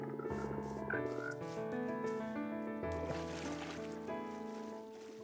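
Minecraft frogs croak in a video game, several tonal croaks layered over soft background music and gentle water sounds, steady and moderately quiet.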